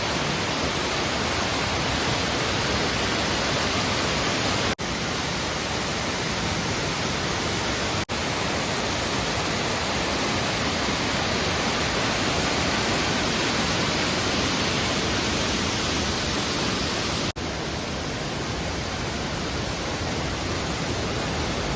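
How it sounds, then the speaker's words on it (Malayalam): Steady, dense rushing of Aruvikkuzhi waterfall falling into a small pool fills the whole stretch, loud and unbroken, with no voices over it. "ഇവിടെ വെള്ളം വന്ന് വീഴുന്നുണ്ട്"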